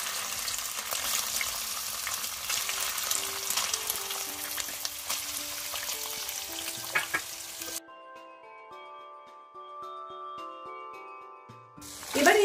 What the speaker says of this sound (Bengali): সাদা তেল পনিরটাকে ভাজবার জন্য নিচ্ছি।